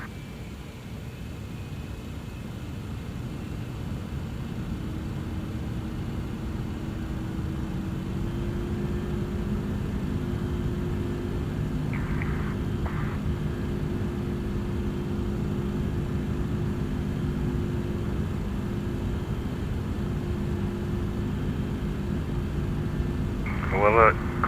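Jet engines of a heavy MD-11F freighter on takeoff roll in Microsoft Flight Simulator, a steady broadband roar with low rumble building gradually, continuous and loud, with brief cockpit chimes near the end.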